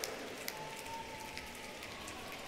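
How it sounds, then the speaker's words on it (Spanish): A concert audience snaps their fingers together, producing a dense, steady patter that sounds like rain on a surface, continuous and fairly loud throughout with no talking. "A ver, chascad los dedos."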